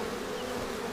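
A bee swarm taken from a fir tree moving into a new hive, a dense continuous buzz, loud and close, with no other sounds.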